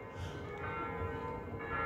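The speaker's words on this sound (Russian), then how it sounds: "Вот сейчас в колокола звонят." Church bells ring at the Russian Gorny monastery in Ein Karem, heard faint and distant across a valley as a soft sustained chime over low ambient background.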